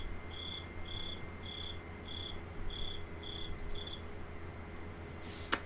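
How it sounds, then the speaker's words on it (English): A cricket chirps outside in repeated short bursts, about a dozen evenly spaced trills against a steady low hum, with a brief knock near the end. "there was a loud-ass cricket somewhere outside"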